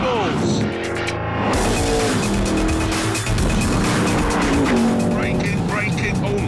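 A Noble M600 sports car drives fast around a track, its engine loud and close, revving and shifting through gears with tire noise, while a voice talks over it.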